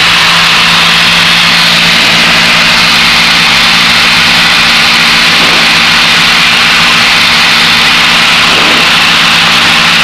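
A Piper Cherokee light aircraft engine drones loudly and continuously from inside the cabin in flight, a steady low hum with a constant tone throughout.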